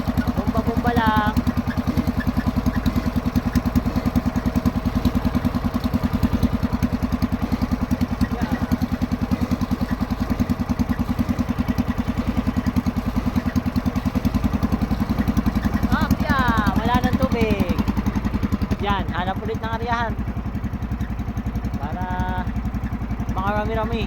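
A motorized bilge pump runs on a fishing boat, its steady engine chug droning throughout, with a few brief whistling squeaks near the end.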